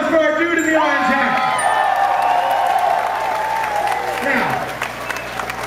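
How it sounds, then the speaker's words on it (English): Crowd applause with cheers and whoops in a small club during a live rock concert, fairly loud and close, while a voice speaks over the noise and a pitched tone rings through. "applause for our dude in the orange hat"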